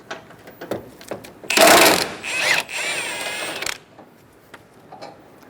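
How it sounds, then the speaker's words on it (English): A power tool drives an 18mm socket to remove the top bumper bolts on a 2014-2018 Chevrolet Silverado 1500, a loud buzzing whir lasting about two seconds with quieter mechanical clicks before and after. "Using an 18mm socket, we're going to remove 4 bolts on the top of the bumper."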